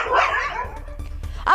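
Several dogs bark in a group, with yips mixed in and an agitated, close-sounding pack; the outburst is loud at the start, dips to scattered barks, then swells again at the end.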